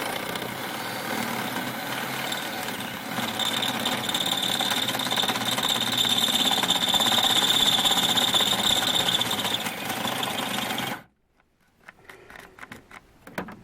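A power drill bores steadily through a steel track bar bracket on a Jeep WJ, a continuous loud whine that runs about eleven seconds and then cuts off abruptly, followed by faint clicks and handling noises.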